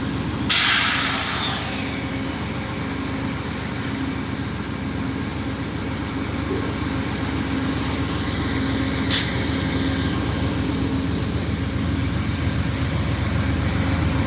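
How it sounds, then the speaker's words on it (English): Amtrak California Zephyr passenger train, led by back-to-back engines, standing at Ottumwa, Iowa station at night, with a loud steady hiss and rumble, one sharp burst of air release near the start and another brief blast later. "And the train has arrived."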